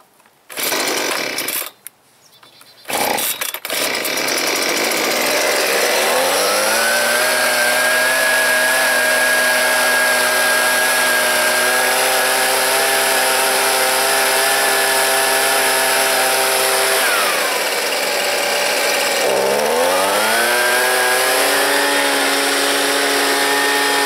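Husqvarna 125B two-stroke leaf blower with broken fuel lines pulled over a few times, then catching and running loud and steady close by, its pitch dipping and climbing again near the end.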